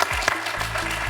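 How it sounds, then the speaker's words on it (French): Brief burst of studio audience applause on a French television quiz show, dense clapping over a low musical backing. "On va applaudir Jean, qui n'a pas démérité, qui est arrivé jusqu'au face-à-face."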